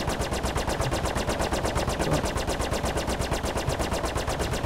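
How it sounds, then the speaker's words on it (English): Rapid automatic gunfire in the Star Citizen video game rattles continuously in a fast, even burst, loud and close throughout. "Someone's shooting someone."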